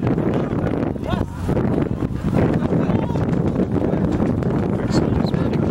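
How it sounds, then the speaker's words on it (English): Strong wind sweeping across an open rugby pitch during a youth spring cup match, a loud steady roar and heavy gusty buffeting on the microphone throughout, with faint distant voices now and then. "Exiles with the wind behind them, and it's quite a strong wind"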